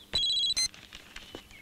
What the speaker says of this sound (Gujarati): શું થયું? કોઈનો ફોન છે.